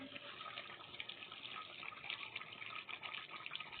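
Water boils in a covered pot with potatoes and cauliflower, giving a steady, close, rushing bubble and hiss throughout, without any talking.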